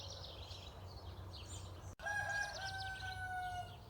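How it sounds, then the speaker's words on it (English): A rooster crows once clearly at mid distance on a quiet morning in a home garden, with fainter bird calls and low background hum around it. "There's a lot of crowing going on this morning"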